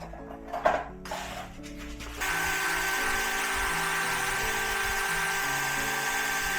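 A rotary tool grinds against a quartz crystal, a steady high-pitched whine that starts after about two seconds of scattered handling clatter and then holds loud and unbroken to the end.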